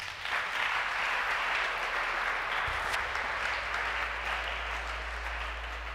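A church congregation applauding, steady dense clapping from a crowd filling the whole stretch, loud and even with a low hum underneath.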